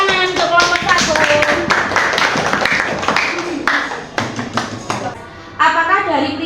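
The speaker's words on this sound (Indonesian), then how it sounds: "Beri tepuk tangan untuk kelompok 1." Students in a classroom applaud a presenting group with a burst of close, sharp hand clapping mixed with children's voices, fading into chatter partway through and picking up again.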